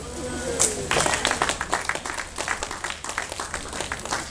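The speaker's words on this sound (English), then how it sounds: "I think they deserve a round of applause for that." An outdoor campaign crowd claps in a lively burst, with individual hand claps distinct and fairly close, fading slightly toward the end; voices talk over the clapping.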